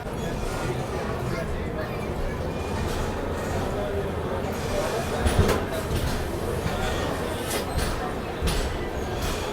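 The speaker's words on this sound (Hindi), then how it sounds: "अपनी ट्रेन भी अब निकल रही है गोविंदपुरी रेलवे स्टेशन से।" A train pulls out of Govindpuri railway station, a continuous low rumble and rattling clatter with a few louder knocks, heard from on board at moderate level.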